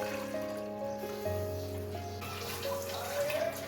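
Water is poured into a cooking pot while making a vermicelli dessert, a soft, quiet stream with ringing tones that rise toward the end.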